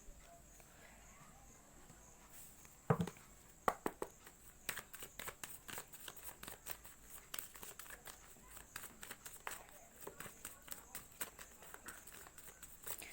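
Tarot cards shuffled up close: a brisk, uneven run of dry papery flicks and soft clicks that keeps going throughout, with a few sharper snaps near the start.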